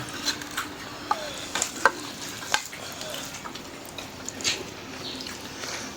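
Fish bhuna frying in oil in a village kitchen, with a soft, steady sizzle broken by sharp clicks and scrapes of stirring in the pan.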